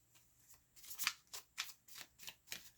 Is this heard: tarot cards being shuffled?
yes